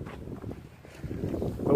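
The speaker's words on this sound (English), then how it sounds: "now it's kind of windy" Steady wind rushing and buffeting outdoors, a low broadband roar that swells louder toward the end.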